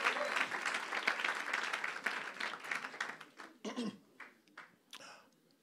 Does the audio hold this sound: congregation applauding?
yes